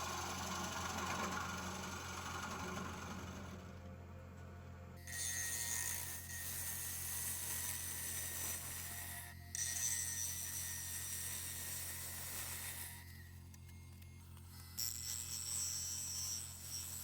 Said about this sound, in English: how the chisel's just gliding through the bevel, almost polishing the cut surface perfectly